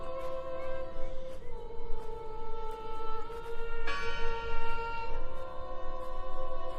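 Bells toll in the video game Draugen, several sustained, ringing strikes that overlap and hum on, layered over a low rumbling ambience with no speech.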